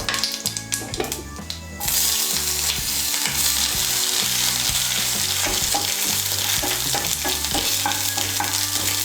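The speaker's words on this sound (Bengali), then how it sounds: "আর হাফ ছোট চামচ গোটা জিরে। দিয়ে একটু নাড়াচাড়া করে নিয়ে" Whole cumin seeds frying in oil as they are stirred, a few clattering stirs at first, then a loud, continuous sizzle that fills the rest close by.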